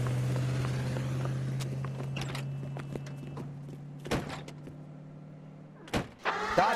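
A car races along during a vehicle chase in a video game, its steady low engine drone holding at first before a few sharp thuds and bangs break in near the end.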